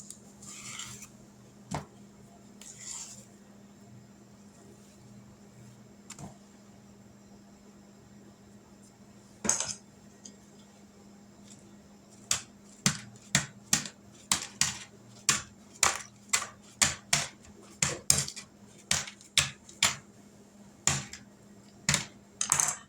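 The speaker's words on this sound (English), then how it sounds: "on top of this, we're going to slice up some bananas" Bananas sliced on a cutting board for banana pudding in a home kitchen: a few scattered knife taps early, then a steady run of crisp, close chops in quick rhythm over a low background hum, with no talking.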